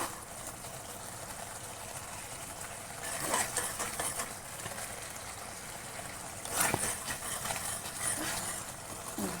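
Spices with salt and turmeric frying in a pan, giving a steady broadband hiss with a couple of brief scraping bursts near the middle and end.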